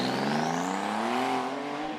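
A Porsche 911 Turbo 997.2 fitted with a 9FF exhaust sweeps upward in pitch in one smooth rising rev, a strong turbocharged engine note heard from a moderate distance with no talking.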